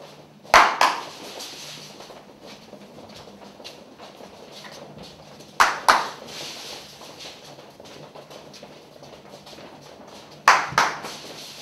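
Hand clapping as a signal in a classroom physical education game, three separate bursts of two or three quick claps spaced about five seconds apart, loud and close over a quiet room hum.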